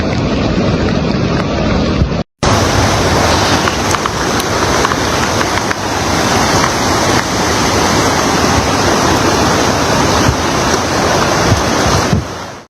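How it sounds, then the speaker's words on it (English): The flooded Guadalupe River roars in a loud, continuous rush of churning water, dense and unbroken apart from a momentary dropout, with wind buffeting the microphone. "that's the Guadalupe River."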